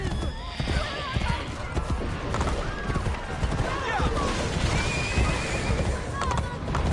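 Horses whinny and neigh several times in the Assassin's Creed Brotherhood video game, amid clip-clopping hooves, crashes and bursts of gunfire; voices speak over the commotion.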